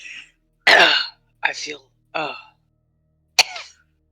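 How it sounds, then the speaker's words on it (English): A woman coughing in a tabletop role-play scene, several harsh, throaty coughs in separate bursts over a few seconds, close and loud, each followed by silence, with a spoken word near the end. "She'll cough up some blood, spit it across the room, across the floor."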